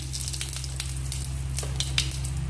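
Cumin seeds sizzling in a spoonful of hot oil in a pan, a steady dense crackle with scattered sharper pops, close and continuous over a low hum.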